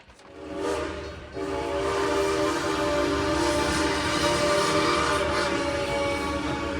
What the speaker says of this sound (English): There's a train on the road.